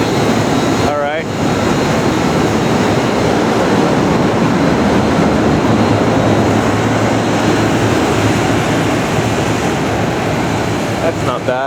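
Loud, steady industrial smoke scrubber running outdoors at an ASTM E84 fire-test facility, a dense continuous roar filling the whole clip with one brief voice near the start.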